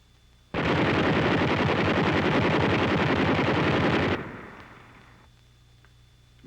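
American 50 caliber anti-aircraft machine guns fire at an airfield in wartime China, a loud, dense continuous burst lasting several seconds that cuts off abruptly, leaving a fading rumble and distant background noise.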